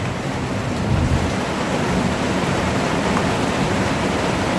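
Heavy rain pours outside in a dense, even roar of broadband noise, loud and unbroken throughout with no voices over it.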